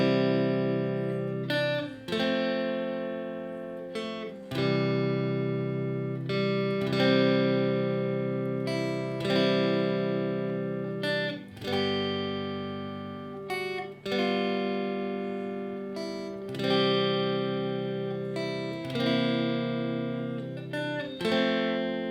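Soulful lead guitar plays the melody of Amazing Grace, with sustained, slowly bending notes and clear note changes every couple of seconds, in a distorted tone with rich overtones and no voices.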